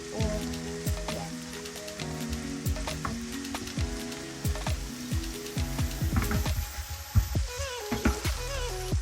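Chopped onion and green bell pepper sizzle steadily in a hot pan for shakshuka, a close, continuous crackle broken by scattered sharp pops and light stirring taps.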